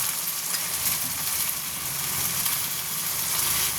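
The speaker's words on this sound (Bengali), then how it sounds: "এবার আমি মাছগুলোকে দিয়ে দেব, যে মাছগুলো ভেজে রেখেছিলাম" Fried pabda fish go into a hot pan of gravy, giving a steady, close sizzle with light stirring and no voices.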